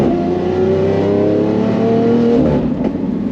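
Lamborghini Aventador with Hamann modifications revving hard, a loud close V12 howl that climbs steadily in pitch over a few seconds, then drops off as the throttle lifts.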